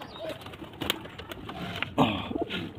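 Several pigeons cooing nearby on a rooftop, soft throaty murmurs overlapping in irregular bursts with a few light rustles.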